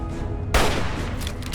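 A .32 rifle fires once in the video game Fallout, a sudden loud, close blast that rings out and fades over a steady background of game ambience.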